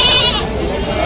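Goats at a busy livestock market in Telangana give a brief, loud, wavering bleat close by. A dense crowd murmur carries on underneath.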